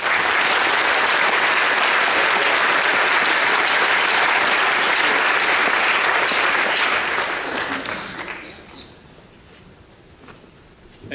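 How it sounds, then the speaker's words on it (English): Audience at a campus startup demo day breaks into loud, dense applause that holds steady for several seconds, then tapers off and fades to quiet near the end. "Let's give Luke a round of applause."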